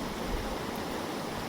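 Tuttle Creek rushes past a BLM campground near the Alabama Hills, a steady, even wash of flowing water with no breaks, close and moderately loud.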